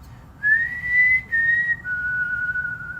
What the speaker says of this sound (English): Sorry, all the whistling.